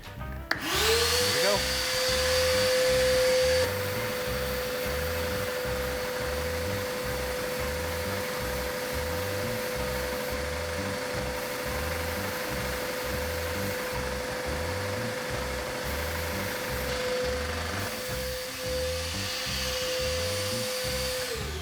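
A Harbor Freight blasting cabinet sandblasting roof rack parts: a loud, continuous hissing roar of air and grit with a steady pulsing compressor throb beneath and a high whine running throughout.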